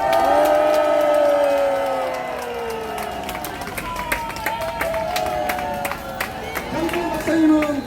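A small outdoor crowd at a protest outside Gwacheon police station gives scattered, uneven clapping for Dr. Jang Jae-hyun, the sharp claps heard under a loud amplified voice that keeps talking throughout.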